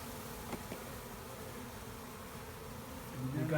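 Honeybees buzz in a steady, moderately close drone around a person wearing a bee beard, with a slight swell in the last moments.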